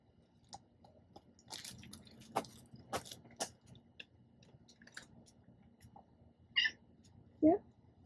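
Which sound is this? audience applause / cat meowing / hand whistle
cat meowing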